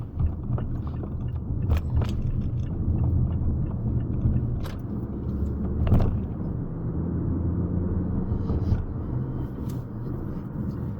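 A 2024 Mazda CX-5 on the road, a steady low engine and tyre rumble heard from inside the cabin, with a few faint knocks and clicks and no talking.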